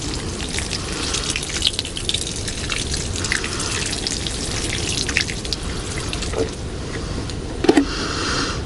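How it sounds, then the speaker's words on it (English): Water from a watering can splashes steadily onto a fire ant mound outdoors, a continuous close pouring wash with a few brief louder knocks near the end. "I'm going to go get a watering can and water that in"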